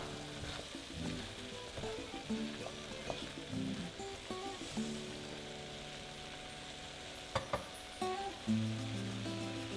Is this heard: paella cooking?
yes